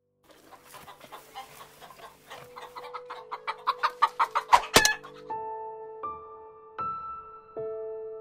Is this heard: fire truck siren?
no